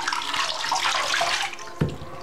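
Tap water runs during a twelve-week-old teacup chihuahua puppy's first bath, a close, splashing gush into a sink that ends with a brief thump, with no voices over it.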